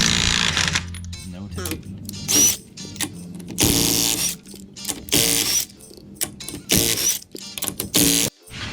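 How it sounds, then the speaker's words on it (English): A Milwaukee 3/8-inch cordless impact wrench hammers loose lug nuts in loud, rattling bursts with brief pauses between them, close up, with a voice speaking briefly over it. "I recently picked up this Milwaukee 3/8 impact wrench, and this thing is a unit. It's gonna take lug nuts off in like"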